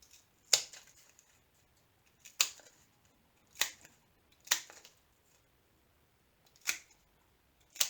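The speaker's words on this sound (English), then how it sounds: "It's helpful in making a place for me to cut my labels." Scissors cutting sticker paper labels on a leftover backing sheet, giving isolated sharp snips spaced a second or more apart, close and crisp against near silence.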